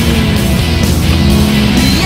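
Ferrari 360 Modena F1 engine running loud and close, a dense steady mechanical roar with strong low rumble filling the short moment.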